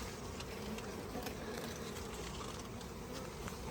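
A swarm of honeybees being caught into a box gives off a continuous, dense buzz that stays close and steady throughout, with no talk.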